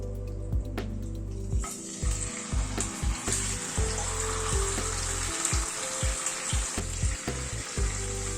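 Spiced, masala-coated chicken pieces sizzle and fry steadily in a pan of tempering spices, a constant crackling bed broken by irregular clatters and knocks of stirring throughout, with no talking.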